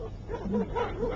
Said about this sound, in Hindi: हैरत नहीं कि कुत्तों के भौंकने से डरो?